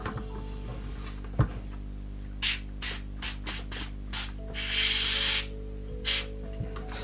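Air hissing out of a Parkside 5-litre garden pressure sprayer: several short bursts of leaking air in irregular succession, then one longer sustained hiss, close by over a low steady background hum.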